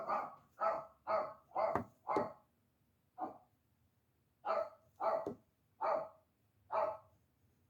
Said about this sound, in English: Miss Chester barks in the background.